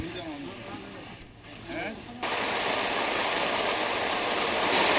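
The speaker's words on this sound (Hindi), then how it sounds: "बाढ़ का पानी हर तरफ तबाही मचा रहा है।" Flood water rushes in a flooded region of India, a dense continuous roar that swells loudly after brief talk and quieter moments at the start.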